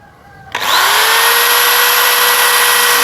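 A Dongcheng DJZ10-10 electric drill whines into life after a brief pause and keeps running at a steady, loud, high pitch close by, drilling into a wall.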